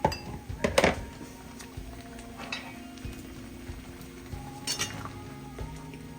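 Metal utensil clinking and scraping in a pot as a chef stirs a bubbling garlic and coriander dish, a few sharp clanks early on, then softer scrapes amid background kitchen noise.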